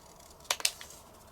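Scissors cutting patterned paper from a 12 x 12 paper pad, two or three quick crisp snips close up in a quiet room, faint and brief.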